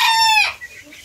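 Sebright chickens give a short burst of close, harmonic clucking and crowing-like calls lasting about half a second, then only faint background noise.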